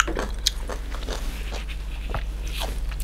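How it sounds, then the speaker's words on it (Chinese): Close-up eating of tofu pudding topped with spicy, salty sauce, with soft wet biting and chewing sounds and small clicks at an irregular rhythm, no talking. "尝尝浇汁豆腐脑"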